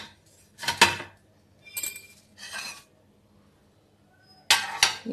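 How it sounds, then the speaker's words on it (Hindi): Quarter plates set one after another into a kitchen rack during a home kitchen cleanup, giving a few separate clinks and clatters of dishware, each brief and close, with quiet gaps between them. "ये क्वार्टर प्लेट है, इसको मैं इसमें डाल दे रही हूँ।"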